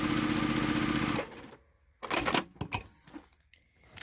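A sewing machine stitches a quilt block in a steady, loud run for a little over a second, then stops; faint handling clicks and fabric rustles follow.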